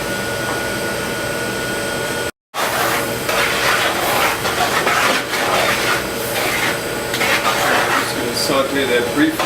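Peppers and onions sauteing in a pan for Caribbean fish cakes: a steady, loud sizzle and hiss that holds throughout, broken by one very brief gap.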